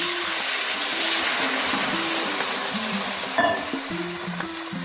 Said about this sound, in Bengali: সবজি কষানো হয়ে গেছে, এখন দুধটা দিয়ে দিচ্ছি